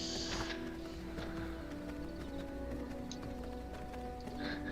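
Horse hooves clip-clop steadily in the Satisfactory video game, a faint, continuous patter beneath a low ambient drone, with no one speaking over it.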